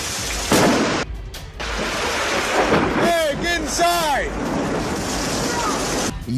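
Thunderstorm with rain in a yard while a neighbor pushes a lawn mower under trees, loud wind-blown roar and rumbling bursts, with a person's voice breaking in briefly midway.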